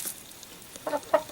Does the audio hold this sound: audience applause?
no